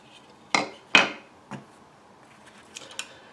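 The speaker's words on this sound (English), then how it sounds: "with a mallet, tap both sides like this, or your palm," Light taps knock a wooden Type 81 rifle handguard loose, struck with a mallet or the palm: three distinct woody knocks about half a second apart, then a few softer, faint clicks.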